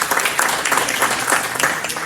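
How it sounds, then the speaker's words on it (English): Town hall audience applause at a parks and recreation meeting, a brief continuous patter of many hands clapping at moderate level, steady from start to finish. "So give yourselves a round of applause."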